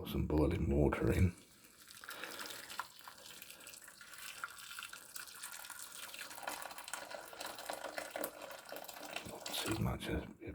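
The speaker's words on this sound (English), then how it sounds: "Just pour some boiling water in." Boiling water pours from a kettle into a pan of curry with tomato puree, a steady splashing stream that follows a louder burst at the start and runs to the end.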